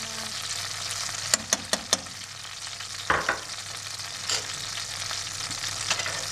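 Hot fried garlic and mint hit kashk with a steady sizzle and fry, punctuated by a few sharp clicks of a utensil and a brief stirring scrape, close and moderately loud with no talking.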